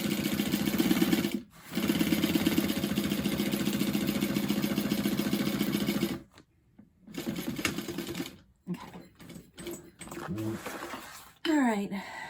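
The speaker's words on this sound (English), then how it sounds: "sewing along the bottom long line of your rectangle" A sewing machine stitches a bag lining in long continuous runs, then stops and restarts in short bursts with brief pauses, its motor buzz close and steady while a voice speaks intermittently.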